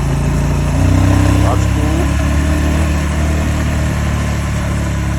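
A small 10-horsepower motorcycle engine drones steadily while riding past an abandoned village in the Poltava region, loud and close with constant wind buffeting and a brief rise in pitch early on.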